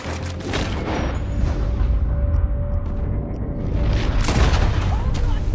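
A gunshot in the Red Dead Redemption 2 video game: a sharp, loud crack amid a dense game soundscape, with a second booming hit near the end and voices talking throughout.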